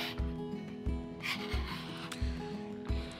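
A blade draws repeatedly through leather, cutting 5/8-inch-wide strips for welts on a handmade leather axe sheath, giving a soft, rhythmic rasping stroke roughly every half second, close and quiet.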